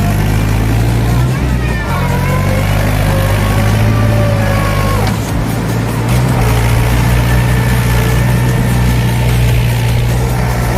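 A Mahindra 475 tractor engine runs close by in heavy rain, making a loud, steady, low rumbling drone for the whole stretch.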